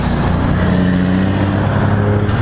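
Can-Am Spyder RT roadster on a test ride, its engine giving a steady, loud, close low drone with a constant hum and no talk over it.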